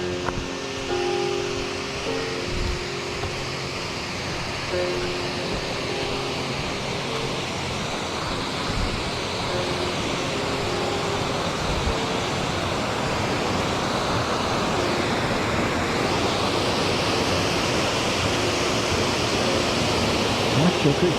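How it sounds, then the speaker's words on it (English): Kill Creek Falls, a waterfall near a backpacking campsite, roaring as a steady broadband rush that fills the scene and swells slightly toward the end, with no talk. "Kill Creek Falls."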